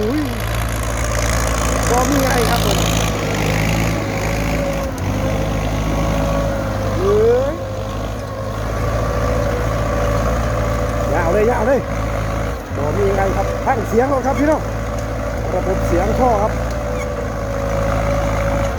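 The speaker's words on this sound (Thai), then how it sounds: "รถไถฟอร์ดเข้ามาเนี่ย ระบบการไถพันหกเข้ามาเนี่ย" A Ford tractor engine drones steadily and loudly as it arrives to plough a farm field, its low rumble continuous throughout while people talk over it.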